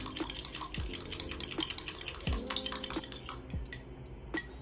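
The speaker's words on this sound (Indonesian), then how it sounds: "Setelah itu kita kocok jeruk nipis dengan salivanya" Lime juice being stirred or whisked into saliva in a small container, a close series of quick clinking and tapping strokes with a spoon against the vessel.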